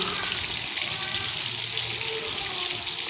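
Masala paste for egg kofta fries in a pan, a dense, continuous sizzling hiss, close and loud throughout.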